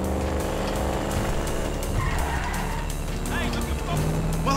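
In GTA 5, a big 140-cubic-inch motorcycle engine roars steadily while the tires squeal and skid. The engine is loud and continuous, with game music and other noise layered underneath.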